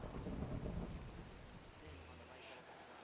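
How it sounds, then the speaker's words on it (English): A Minecraft thunderstorm: a heavy, rolling rumble of thunder over steady hissing rain, loud at first and slowly fading into a continuous downpour. "Thunder's gonna make me lose my mind."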